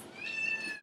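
A single cat meows once, a clear, fairly close, drawn-out cry that cuts off sharply.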